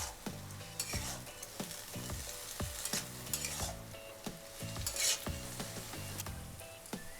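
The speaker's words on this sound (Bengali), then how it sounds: "এবার ভালো করে মশলাটাকে কষিয়ে নেব, যাতে মশলার যে একটা কাঁচা গন্ধ থাকে সেটা যেন" Spice masala is stir-fried in a pan for a mushroom, paneer and soyabean curry, with a rhythmic series of spatula scrapes and knocks over a crackling sizzle, close and fairly quiet.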